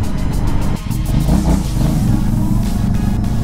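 An Aprilia Shiver 900 twin-cylinder motorcycle pulls away in first gear with a deep, loud engine note that surges and climbs steadily, heard close up and alone for a few seconds.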